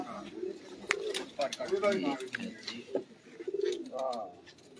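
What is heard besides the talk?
pigeons cooing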